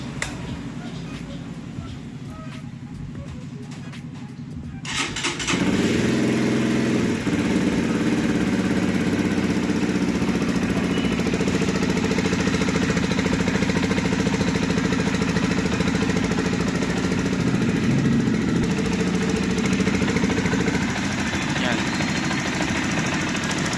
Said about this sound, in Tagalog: paandarin natin siya ng walang fairings para mas marinig nyo yung andar ng makina